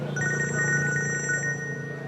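A telephone rings with a rapid electronic trilling bell, one steady ring burst lasting just over a second over a low background hum, with no voices.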